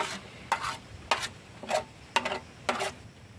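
Corned beef and egg omelette mixture frying in plenty of oil in a single pan, with five separate bursts of sizzling and stirring spaced roughly half a second apart, close and moderately loud, with no talking.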